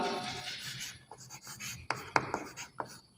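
A sentence is written out on a board in quick scratchy strokes, then a few sharp taps and clicks toward the end, close and fairly quiet with no talking.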